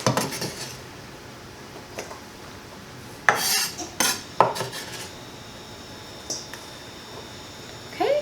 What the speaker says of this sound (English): So I'm just going to chop them up a little bit more